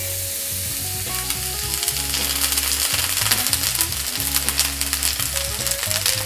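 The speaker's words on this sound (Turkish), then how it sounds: "Bunu şimdi tekrardan sadece 2 dakika tavada şöyle bir cızır cızır edene kadar kızartacağım." Bread fries in a pan with a continuous, crackling sizzle, loud and close, while a low melodic hum of background music runs underneath.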